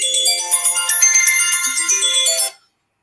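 A phone ringtone plays loud and alone, a bright repeating electronic melody that runs for about two and a half seconds and then stops abruptly into silence.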